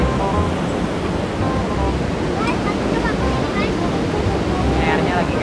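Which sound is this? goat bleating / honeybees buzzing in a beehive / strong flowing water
strong flowing water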